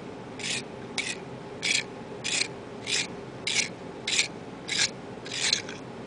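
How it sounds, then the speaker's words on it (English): A Kum Automatic 2M long-point pencil sharpener shaves the wood from a pencil in a steady series of about nine short, even rasping strokes, each roughly two-thirds of a second apart, close and alone over a low background hum. "it's shaving off the wooden part around the graphite, and then it is making a very squared off tip"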